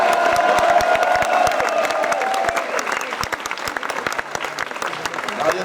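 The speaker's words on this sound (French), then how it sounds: "Vous pouvez l'applaudir aussi chaleureusement." Warm crowd applause at the 2014 Bal des quenelles gathering, loud dense clapping with a few cheers and whoops early on, gradually thinning into looser, scattered claps over about six seconds.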